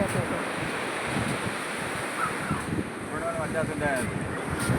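Sea waves at a beach roll in as a continuous, rumbling wash mixed with wind buffeting the microphone, while faint voices talk in the background.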